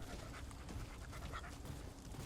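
Companion dog in the video game Remnant 2 panting in quick, soft, steady breaths, fairly quiet and continuous, mixed with low game ambience and no talk.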